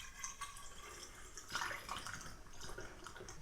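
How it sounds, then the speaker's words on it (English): Home-brewed beer is poured into a bottle with a steady, faint splashing and trickling of liquid. Soft drips and gurgles run on for a few seconds, and no one speaks. "I'm going to pour the beer into this bottle"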